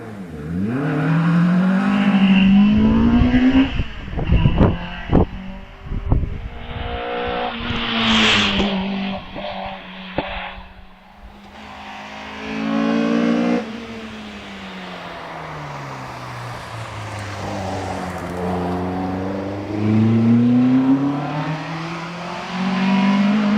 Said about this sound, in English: Next on the hill will be Ian Woolstencraft in the Ginetta, the G40 I believe it is.